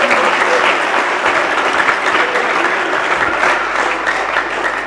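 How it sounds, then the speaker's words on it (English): An audience at a renovation celebration for a school for the blind dining hall applauds warmly, with sustained, dense, loud clapping filling the whole span and faint voices mixed in. "Please, can we clap for them?"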